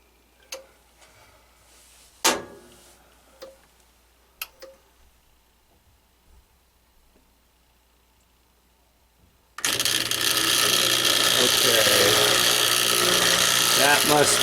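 Scattered knocks and clicks, then a sudden loud, steady whooshing rush of water and drain pump noise from a Kenmore Elite HE3t washing machine that is not draining, continuing strongly to the end.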